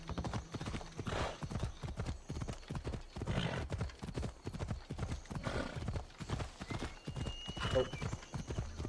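Horse hooves clip-clop in a steady trotting rhythm while riding in the Assassin's Creed Odyssey video game, with an occasional whinny, and a person talks over the hoofbeats throughout.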